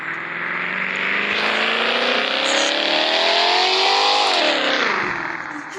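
A car engine in the GTA video game revs up and accelerates while driving, its pitch climbing steadily. It then drops as the throttle eases near the end, loud and continuous, with no talking.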